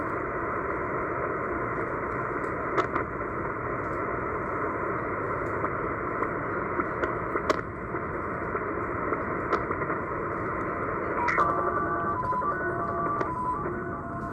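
Shortwave radio receiver tuned in the 8000 kHz band to the digital signal nicknamed the Japanese slot machine, a steady warbling, tonal data burst sitting in constant static hiss, with faint clicks and slight shifts in texture throughout.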